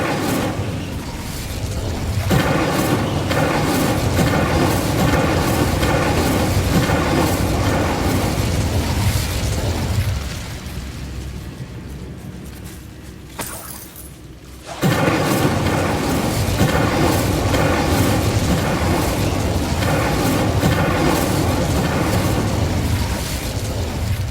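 Incendio fire spell cast in Hogwarts Legacy, a loud sustained roaring burst of game effects and music that dips briefly then surges back, filling most of the stretch with no talk.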